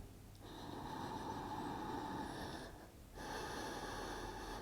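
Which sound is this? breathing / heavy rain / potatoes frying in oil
breathing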